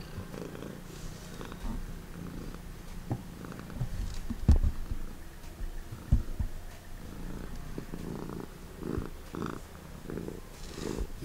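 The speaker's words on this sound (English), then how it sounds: "Listen to her purr." A cat purring softly and steadily up close, a low rhythmic rumble with occasional small bumps and rustles.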